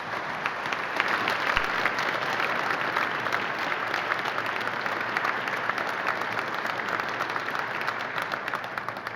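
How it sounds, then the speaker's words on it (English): An audience at a war history conference on World War I breaks into sustained applause, a dense wash of many hands clapping steadily for several seconds at moderate volume. "And I think that deserves a round of applause right there."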